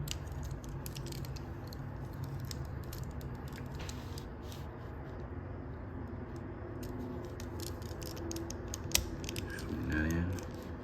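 Plastic joints and pins on a Studio Series 96 Bumblebee Transformers figure click and ratchet as parts are swung and folded, giving scattered small clicks and creaks over a soft, steady background hiss.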